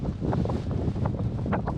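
Wind buffets the microphone in a steady low roar with gusty, fluttering bursts throughout, on a cold day at Higger Tor in the Peak District.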